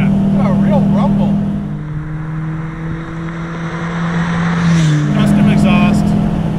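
Modified 1968 Porsche 912 with a custom exhaust driving along, its engine giving a steady low droning rumble that shifts pitch slightly around a gear change. People talk faintly over it.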